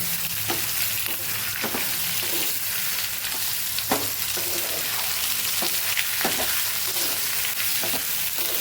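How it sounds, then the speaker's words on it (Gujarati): Diced potatoes sautéing in a pan for a fasting dish, a steady loud sizzle with occasional scraping stirs breaking through at irregular intervals. "બટેકાને આપણે ઉમેરી દીધા છે. સરસ આપણે સાતળી લેવાના છે."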